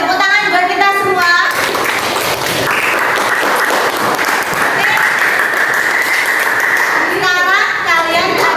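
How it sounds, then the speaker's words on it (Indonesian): A classroom of children claps together in a burst of applause that lasts several seconds, with children's voices and an adult voice speaking just before and just after. "Tepuk tangan buat kita semua."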